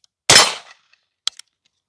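A single sharp gunshot from a firearm fitted with a red dot sight and magnifier, loud and close, with a short decaying tail and two faint metallic clicks following a moment later.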